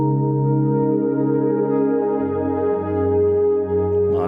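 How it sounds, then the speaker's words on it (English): A sustained Zebra 2 synth pad holds a steady chord, with smeared delay repeats and feedback howling softly behind it, no voices. "you can hear the feedback and those delays kind of howling in the background"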